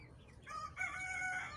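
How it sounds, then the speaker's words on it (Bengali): A rooster crows loudly and close by on a village farm where free-range local ducks and chickens are kept, the strained call rising and holding over soft background clucking, with no talking. "এখানে অনেক সুন্দর হাঁস মুরগি পালতেছে"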